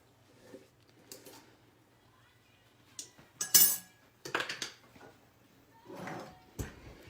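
A spoon scrapes and clinks against a cup while peanut butter is measured out for healthy breakfast cookies, giving quiet, scattered metallic taps and scrapes with pauses between them.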